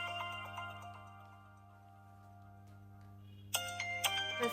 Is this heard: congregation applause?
no